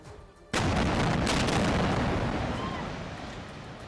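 A missile strike explodes into a building in northern Gaza, one sudden heavy blast breaking out of quiet and trailing into a long, rumbling roar of collapse and debris that slowly fades.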